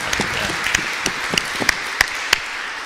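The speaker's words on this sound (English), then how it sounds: "could we just give a little round of applause for Raymond, who was operating the slides and improvising in the music?" An audience gives a short round of applause, dense clapping with a few sharp, louder claps standing out, steady and moderately close for about three seconds.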